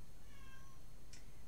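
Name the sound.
cat meowing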